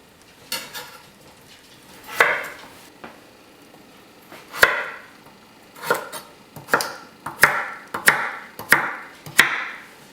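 Sharp knife strikes on a cutting board, about a dozen irregular chops, each crisp and close, with quiet pauses between.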